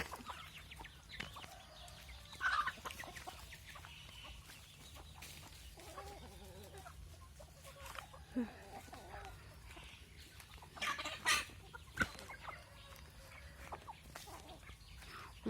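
Chickens cluck at feeding time in an outdoor yard, with scattered calls and a few louder bursts over low ambient noise while people talk intermittently.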